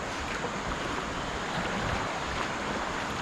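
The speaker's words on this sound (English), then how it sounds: "Let's go over the set of rapids with these rocks." Rushing river rapids pour over rocks as a raft moves through, a steady, loud, broadband roar of churning water with some wind buffeting, continuous and unbroken with no voices.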